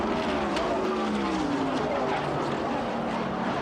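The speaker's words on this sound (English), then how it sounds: "Bobby Allison with a horrible crash here on the front stretch" Stock car crashing on a race track's front stretch after a tire blowout, tearing through protective railing; a continuous loud roar of engines and grinding noise runs throughout, with commentary voices over it.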